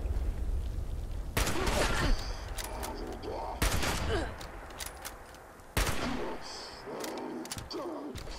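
Gunfire in the game Fallout 76, repeated sharp blasts and rattling volleys in bursts, loud and close, with someone talking between and over the shots.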